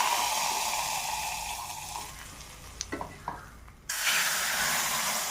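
Hot garlic tempering, ten crushed cloves fried until reddish, is poured into a jackfruit-seed rasam. A steady, near hiss breaks into a few clinks before a loud, sudden sizzle bursts up and keeps going.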